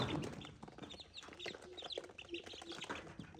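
Farm chickens and chicks cluck and peep close by in a busy, overlapping stream of short calls, with no talking.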